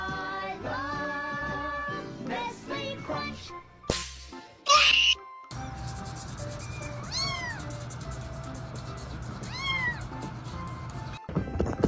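Several short meows from a cat, sharp rising-and-falling calls spaced a second or two apart, heard close after a burst of music and a brief loud clatter.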